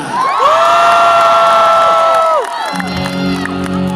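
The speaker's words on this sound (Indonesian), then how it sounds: "Berikan tepuk tangan paling meriah untuk Aisyah." A concert crowd in Makassar cheers and whoops loudly and holds it for over two seconds, with high shouts rising and falling together. The roar then drops away to a quieter murmur with a sustained tone.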